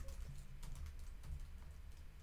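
Code being typed on a computer keyboard, with quick irregular clusters of close, light key clicks and brief pauses between bursts, no voices.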